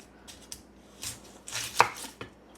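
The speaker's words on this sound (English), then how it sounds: "So how I cut my onions is I leave the root end on." A knife chops through an onion on a cutting board in a quick, uneven run of crisp, close thuds and slices, with a brief quiet gap between bursts and no talking.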